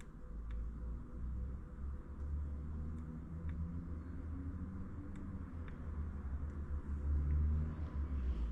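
SleepyTroll baby rocker motor rocking a pram, a low continuous rumbling hum with faint mechanical ticks, steady and close with no voices.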